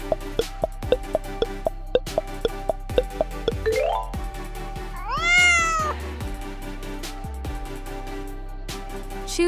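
A cartoonish cat meows in a rising, wavering tone amid rhythmic dripping plops and a bouncy musical backing, the meow loud and close.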